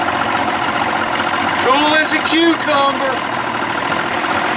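A 1992 Johnson 60 hp outboard boat engine idles with a steady low drone while someone speaks briefly over it.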